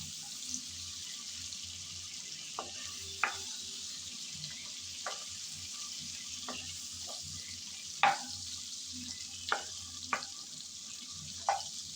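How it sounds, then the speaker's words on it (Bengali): Shrimp fry in hot oil with a steady broadband sizzle, broken by sharp clinks and scrapes as a utensil turns them in the pan, with no talking. "কিছুক্ষণ সময় নিয়ে উল্টিয়ে পাল্টিয়ে চিংড়ি ভেজে নিলাম।"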